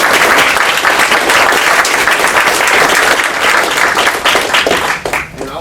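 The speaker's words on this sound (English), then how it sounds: "if we could just give them a round of applause real quick." A room full of people applauds the guests at the end of a securities fraud talk: dense, loud clapping that carries steadily and then thins out and fades near the end.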